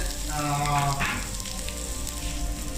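Chopped onions fry in coconut oil, making a steady, moderately loud sizzle throughout, with a brief tonal hum near the start.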